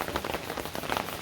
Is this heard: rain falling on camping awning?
yes